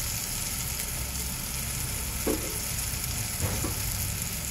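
Tomato with turmeric and red chili powder sizzles in a pan, a steady soft frying hiss broken by a couple of brief stirring scrapes, with no talk.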